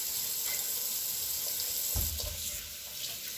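Tap water runs steadily into a sink, a faint, constant hiss with a few soft splashes and clunks partway through, no voices present.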